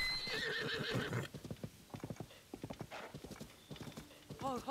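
A horse in Zelda: Tears of the Kingdom whinnies loudly at the start, then its hooves clip-clop in a quick galloping rhythm, with a shorter neigh near the end and a voice talking over parts of it.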